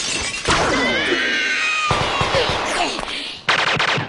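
Rapid bursts of navy gunfire in a One Piece anime scene crackle with sharp impacts and shattering noises, loud and close, with a high whistling tone between volleys.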